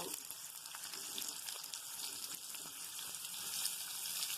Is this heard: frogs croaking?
no